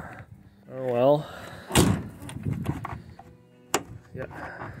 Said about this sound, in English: I was told door lock is broken. It doesn't lock anymore.